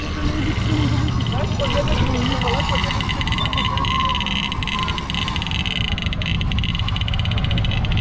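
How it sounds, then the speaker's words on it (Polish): A vintage Star fire brigade truck rumbles nearby at a historic vehicle rally, its engine giving a steady low throb. Voices and crowd noise carry on over it throughout. "Charakterystyczny dźwięk stara za straży pożarnej."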